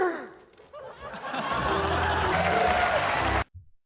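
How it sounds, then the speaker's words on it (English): A large studio audience of cast, crew and onlookers breaks into loud laughter and sustained applause after the Wolverine sketch on the first live Saturday Night broadcast. The sound swells steadily, then cuts off abruptly near the end. "Michael and John first do their Wolverine sketch, which gets a huge laugh and applause from the cast, crew, and audience"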